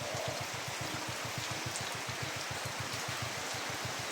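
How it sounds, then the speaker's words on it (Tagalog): Steady rain falls during flooding in Mindanao, a dense, continuous patter of drops with a rapid pulsing texture, close and moderately loud with no voices. "lagi na lang umuulan."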